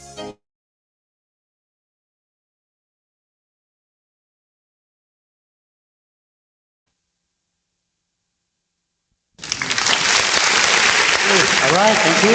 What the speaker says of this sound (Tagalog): Thank you sa palakpak.